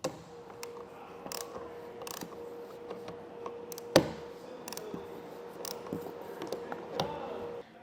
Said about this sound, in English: you can then secure your crossbar using your 5/8 inch wrench